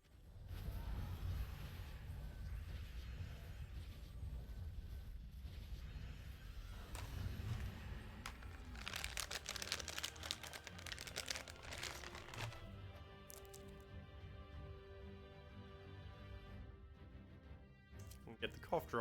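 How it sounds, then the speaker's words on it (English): A cough drop wrapper is opened close to the microphone, giving a long run of soft crinkling and crackling plastic that grows busier and sharper midway. "Get the cough drop open."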